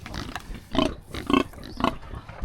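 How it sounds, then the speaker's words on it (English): Pigs in a remote village in Laos, one big and one little, give several close, deep grunts spaced in rough bursts over faint background noise, with no talking. "There's a big oinker here and a little oinker there."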